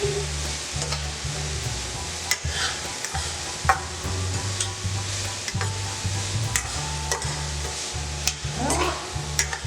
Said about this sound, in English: Just a little stirring.